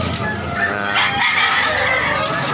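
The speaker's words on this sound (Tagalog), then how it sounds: "Daming rooster. So many rooster. Beautiful rooster." Several roosters crowing together at close range, overlapping loud calls with clucking and chatter from other fowl throughout.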